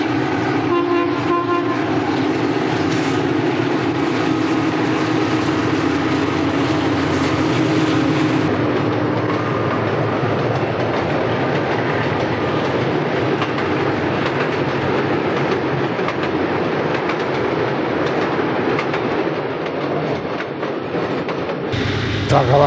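A northbound Delaware & Hudson freight train rolls across the Harpersville Trestle with a continuous heavy roar and rhythmic wheel clatter, and its horn sounds early on. The train is loud and fairly close and keeps going throughout.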